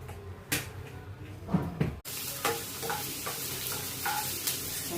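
Cooking oil heats in a pan for masala Maggi noodles. A few soft knocks and clatters come first, then a bright, continuous sizzle takes over with small pops and scrapes, close and fairly loud.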